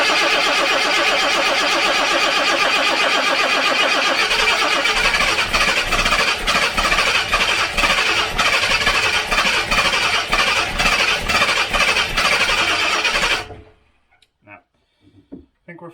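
A Jaguar XJC engine, recently rebuilt and prone to flooding, cranks and fires up, then runs at a rough, loud idle close by for several seconds before being shut off abruptly, leaving near silence with a few faint knocks.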